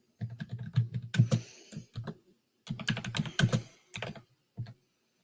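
Bursts of computer keyboard typing as a project name is entered, close and clear with quick clustered keystrokes separated by short pauses, no voices.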